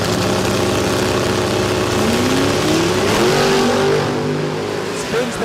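Drag racing cars at Warwick Dragway in Australia finish a run, a loud sustained engine roar with a rising pitch sweep as they pass, heard continuously with background crowd and commentary noise.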